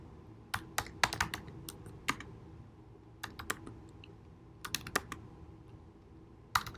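Typing a diff command on a computer keyboard in a terminal: scattered bursts of sharp, close key clicks, quick clusters separated by short pauses, fairly quiet with no talk.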